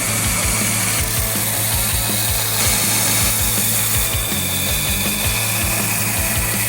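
Knife sharpening on the 120 grit belt of a Brodbeck Pirate belt sharpener: a steady loud motor and belt whir with repeated rhythmic scraping pulses as the blade is drawn across, with no talking.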